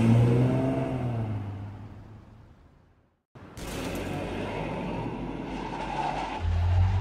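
Car pulling up on a street, engine revving as it approaches and decelerating, then a sharp cut followed by steady nearby engine idle and road noise.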